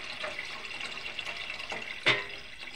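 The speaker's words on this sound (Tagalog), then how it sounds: "Magdaragdag na ako ng tubig." Water is poured into a pot of pork sinigang, a steady splashing hiss with a brief louder gush near the end, heard close and alone.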